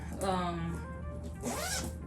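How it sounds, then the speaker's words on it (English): A travel bag zipper is pulled shut in two quick drags, close and fairly loud, with a speaking voice partly overlapping. "We're gonna zip that up."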